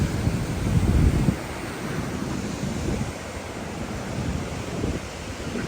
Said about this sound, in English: So you have the constant roar of the river beside you.